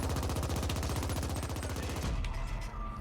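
Rapid, loud automatic gunfire in the twin-stick cyberpunk shooter game The Ascent, a dense continuous burst of shots that cuts off near the end, leaving a brief lower rumble.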